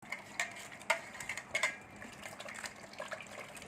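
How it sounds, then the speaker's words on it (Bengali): Peeled pointed gourds (potol) being rinsed in water in a kitchen, with soft splashing and scattered light clinks of a bowl or pan, fairly quiet and close, no talking. "এই দেখুন পটলগুলো পুরো ধুয়ে নিয়েছি।"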